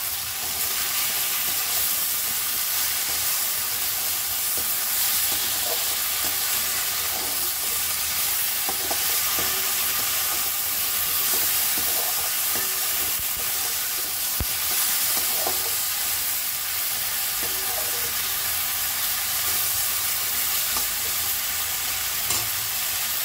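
Okra (vendakkai) fries in a pan for a Tamil village-style kara kulambu, giving a steady, loud broadband sizzle throughout with intermittent scraping and stirring clicks from a utensil, close and continuous with no talking.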